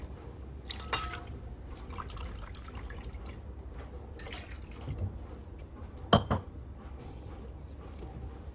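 Milk being poured into cake batter in a home kitchen, a faint splashing and trickling of liquid with a few louder clinks and drips along the way.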